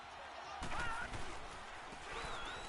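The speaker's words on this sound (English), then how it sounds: "I hear a lot of quacking." Quacking, honking calls rise over a steady crowd roar in a PS4 football video game, a few nasal bursts near the start and again toward the end, fairly loud against the stadium noise.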